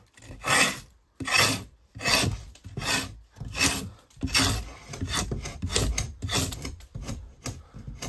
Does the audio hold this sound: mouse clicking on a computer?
no